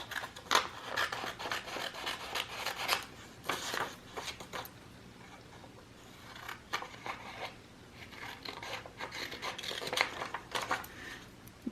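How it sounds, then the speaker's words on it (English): Scissors snip through paper in repeated quick bursts, close and crisp, with brief pauses between cuts and no talking. "Larger scissors would probably be more useful at this stage"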